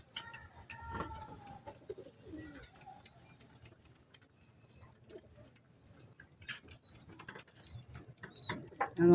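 Caged birds, including pigeons or doves, pecking at feed with soft scattered tapping and pattering, occasional low coos and faint chirps, quiet and close, with some background noise rising toward the end.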